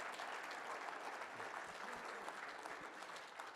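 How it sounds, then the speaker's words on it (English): Faint, steady applause from the audience at a company safety kickoff meeting, sounding distant and holding at an even level for a few seconds. "round of applause for Paul"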